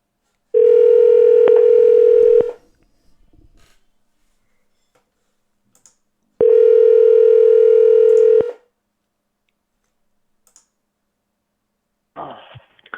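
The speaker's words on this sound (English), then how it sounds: "Let's get Bam Bam on the phone here." A telephone rings back while a call is placed, two long, loud, steady tones, each lasting about two seconds and separated by a pause, followed by a brief click of pickup.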